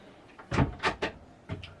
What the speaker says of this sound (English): Big cupboard in here with a slide out cutlery drawer.